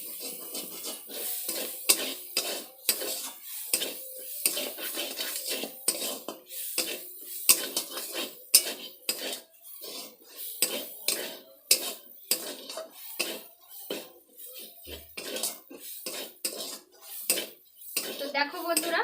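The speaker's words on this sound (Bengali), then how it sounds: "এটা ভালোভাবে আরেকটু ভেজে নিচ্ছি।" Prawn filling with garam masala stirred and fried in a pan, with repeated metal scraping and clinking of a spoon against the pan, close and fairly quiet with irregular rhythm.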